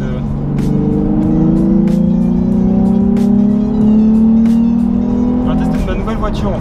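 A Nissan 350Z engine hums with steady rising tones, like a car accelerating, while someone talks continuously over it.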